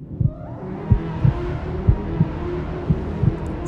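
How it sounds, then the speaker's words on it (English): Muffled heartbeat thumps pulse steadily and quickly over a low throbbing hum, a series of soft doubled beats repeating about every half second with no voices. "The muscle just to the left of her breastbone was visibly pulsating, weirdly convulsing with the rhythm of an out-of-control heartbeat"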